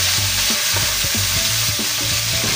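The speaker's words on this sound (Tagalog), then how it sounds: "Ayan, lagay na po natin yung ating bawang." Garlic sautéing in leftover oil in a pan used to fry tilapia, a loud, dense, continuous sizzle with faint scraping underneath and no voices.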